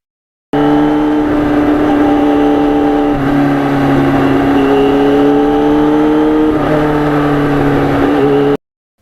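A 1991 Yamaha FZR 1000 motorcycle engine runs steadily and loud, its pitch rising in two or three stepped surges as the revs climb, then cutting off abruptly near the end.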